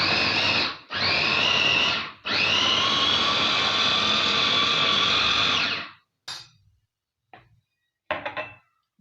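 An electric blender whirs loudly as it blends salt, cumin and peppers, running in three bursts with short pauses between them before it stops, followed by a few brief knocks and rattles.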